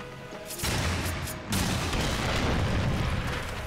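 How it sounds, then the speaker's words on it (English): A heavy bomb detonation in Darksiders erupts as a loud booming blast, followed by a second surge and a long roaring, crackling rumble that sustains to the end. "Bombs away!"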